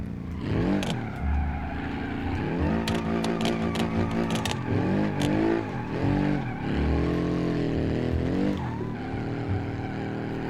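A car engine revs and rises and falls in pitch while drifting in the driving game BeamNG, with tires squealing through the slides. The engine stays loud and steady, with no talk.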